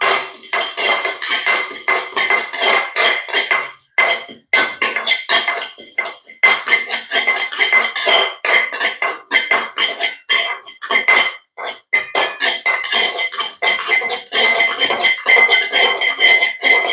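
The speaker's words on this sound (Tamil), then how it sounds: "நல்லா வறுக்குறீங்க வெந்தயம்" Fenugreek seeds dry-roasting in a pan for a prawn curry, a busy, continuous scraping and rattling of utensil against metal with brief pauses, close and fairly loud, no talk.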